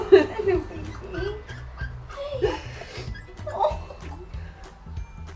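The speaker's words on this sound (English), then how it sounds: "So, that's your puppy." A puppy gives high whimpers and short yips in quick irregular bursts, close by, while people talk and laugh excitedly around it.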